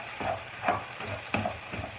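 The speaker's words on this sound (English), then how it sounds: "as you can hear, it's starting to go. We're going to saute that for about 30 seconds" Garlic sautéing in a pan, a faint hissing sizzle broken by a few soft stirring scrapes, close and quiet with no talking.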